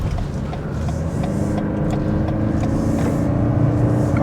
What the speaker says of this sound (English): I can hear quite a bit of that road noise coming from the outside.